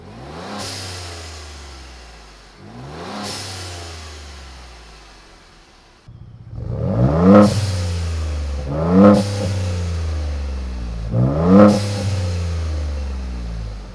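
A Ford Bronco 2.7L with an AWE Tuning aftermarket exhaust revs repeatedly from about 5 feet away, rising and falling in roughly even pulses, deep and loud, the second half louder than the first.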